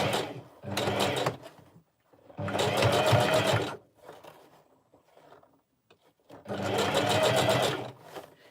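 A sewing machine stitches along the track of a wig cap while the cap is twisted, running in three loud, steady bursts separated by pauses filled with faint handling noise.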